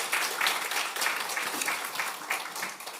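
A church congregation at a Sunday worship service gives a round of fairly soft, steady applause. The clapping comes in gentle swells throughout, at a slight distance.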